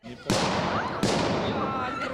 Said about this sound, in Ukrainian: До того ж на місці і досі чутно вибухи.